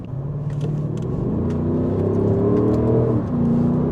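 An Audi SQ8 TDI diesel engine accelerating, a steady mid-level rumble with rising engine tones that climb, dip briefly, then pick up again, heard from inside the car without talk.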